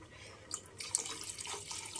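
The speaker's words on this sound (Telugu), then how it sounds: "ఇప్పుడు దీనికి సరిపాను నీళ్ళు పోసుకుందాం" Water running and splashing into a cooking pot, a steady pour with brief louder splashes, close by with no talking.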